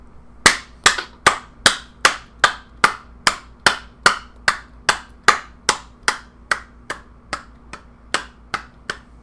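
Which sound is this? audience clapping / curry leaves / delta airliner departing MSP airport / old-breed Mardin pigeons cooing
audience clapping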